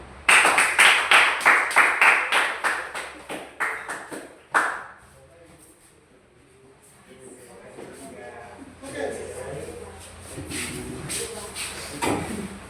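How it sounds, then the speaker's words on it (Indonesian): A classroom of students claps hands in a quick rhythmic burst of about a dozen sharp, loud claps that slows and fades, followed by quiet room noise with faint shuffling and voices. "Tepuk tangan."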